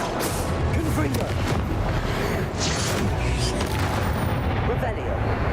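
Spell blasts from the Confringo fire spell in the Hogwarts Legacy video game, a dense run of booming, explosive bursts in steady succession over constant game noise, with a voice talking through it.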